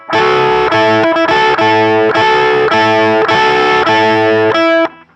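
A heavily distorted electric guitar riff, loud and sustained, with chugging repeated chords and brief rhythmic breaks, played alone.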